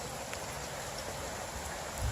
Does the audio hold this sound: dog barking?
no